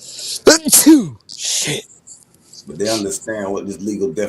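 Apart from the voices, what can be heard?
sneeze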